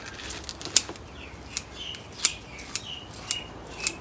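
Scissors snipping away the outer roots of a Japanese maple bonsai during repotting, a series of sharp close clicks spaced irregularly, about eight cuts, with no talk.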